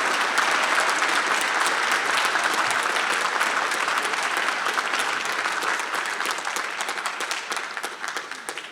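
Graduation ceremony audience clapping for a doctoral graduate, a dense, loud and sustained roar of applause that stays strong for most of nine seconds before gradually tapering.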